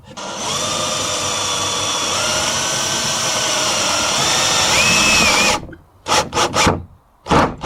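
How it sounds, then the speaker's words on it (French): Small stainless steel screws are driven into glass table slats with a power drill or driver, giving a loud, sustained whine for several seconds before a few short bursts, close up with no speech. "on va venir mettre des petites vis inox de ce type, et donc là on va venir mettre une vis au milieu de chaque lame"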